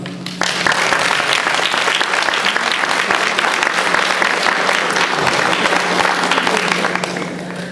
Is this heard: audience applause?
yes